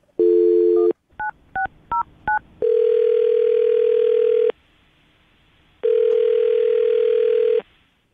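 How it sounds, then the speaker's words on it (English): Telephone line sounds: a steady dial tone, then a rapid run of short touch-tone dialing beeps, followed by two long ringback tones separated by a pause, clean and close. "I'll dial the phone number right now."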